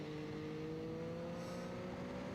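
A Triumph Street Triple 765RS motorcycle runs flat out on the Donington Park track, a steady high-pitched engine whine held at constant revs, faint and blended with wind rush.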